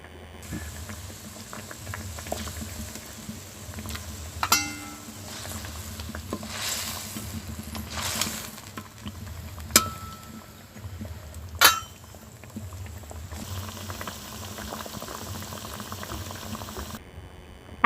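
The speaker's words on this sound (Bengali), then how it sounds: "মাছ দিয়ে বেশ কিছুক্ষণ ফোটার পর এখন আমার তেল ঝাল হয়ে গেছে" Fish (pomfret) and tomato oil-chili curry bubbles steadily in a pan, a continuous close simmering patter with a few sharper pops and spoon clinks and no talk.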